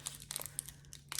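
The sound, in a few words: crinkling foil bag holding a Shiseido lipstick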